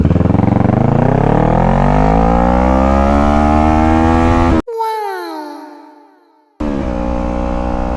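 A Kawasaki ER6N motorcycle pulls away from a standstill in first gear, its engine note climbing steadily and loudly for several seconds, then cutting out abruptly before a shorter burst of revving resumes.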